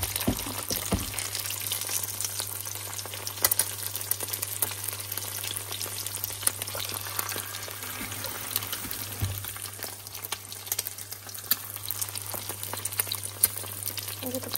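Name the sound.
egg lightly frying in a pan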